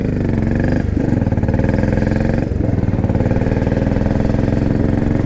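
A Royal Enfield Bullet 500 motorcycle engine runs while being ridden, with a loud, close, steady thumping drone and two brief dips in the note, with no talking.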